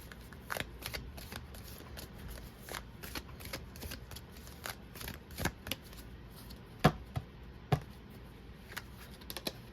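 A deck of tarot cards shuffled in bursts of soft riffles and sharper snaps, fairly faint against a quiet room, with no voices.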